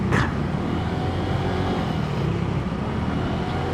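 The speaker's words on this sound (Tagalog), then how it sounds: "Oh, traffic." Road traffic heard from a Yamaha Mio Gravis V2 scooter on a downhill ride, a steady loud rumble of engines and road noise with a brief sharper burst at the start.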